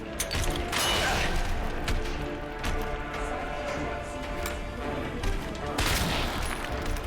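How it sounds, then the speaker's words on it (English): A flash grenade goes off in the Resident Evil 2 remake, a bright burst rising out of dense, loud game noise near the start and again near the end. "I'm going to pop a flash grenade"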